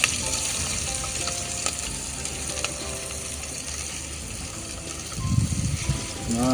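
Chopped onions fry in oil at an outdoor new year cookout, a loud continuous sizzle with stirring scrapes and clinks near the end.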